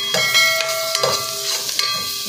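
Butter sizzling in a pan at the start of cooking sopas, a steady close frying hiss with light scraping and clinking as it is stirred.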